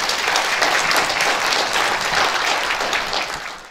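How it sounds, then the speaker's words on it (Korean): An audience applauds to welcome a political science speaker at a symposium in the National Assembly hall, a steady, even wash of clapping lasting a few seconds before fading at the end. "여러분 환영의 박수 부탁드립니다"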